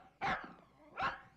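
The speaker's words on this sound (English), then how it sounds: "And he's already testified 3 times. First, by barking at you, Duncan" A dog barks twice, about three-quarters of a second apart, each bark loud and close with no other sounds around it.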